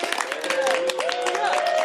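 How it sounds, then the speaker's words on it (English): Audience applause at a governor's bill signing, a dense steady patter of clapping from a room of people lasting a couple of seconds with some voices mixed in. "Give her a round of applause."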